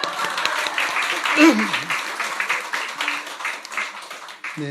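A church congregation claps steadily in sustained applause during a Sunday service, with a voice briefly rising above the clapping partway through.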